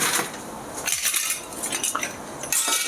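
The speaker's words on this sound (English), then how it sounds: "So let's add some ice" Ice cubes dropped and clinking into a mixing glass for a Vieux Carre cocktail, a close run of bright, hard knocks and rattles spread over a few seconds.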